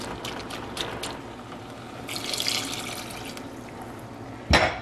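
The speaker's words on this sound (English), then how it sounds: "I think I will also add another cup of water." Water splashes and trickles into a pot of simmering marmalade on a stove, a soft pouring sound with a sharper splash near the end, fairly faint and alone.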